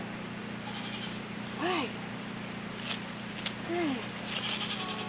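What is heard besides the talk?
goats bleating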